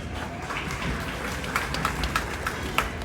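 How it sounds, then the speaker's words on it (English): Sparse, scattered clapping from a small audience, a brief patter of a few hands over a quiet room. "That's pity applause."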